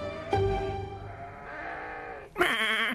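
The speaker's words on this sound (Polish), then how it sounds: "wszystkie owce były już gotowe do kąpieli" Several sheep bleat one after another, long wavering cries at close range, the last one loud and sharp.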